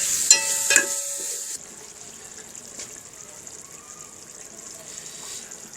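Spices, turmeric, cumin, salt and red chili, stirred together with a few clinks and scrapes, then a soft, steady sizzling wash, close and moderately quiet with no talking.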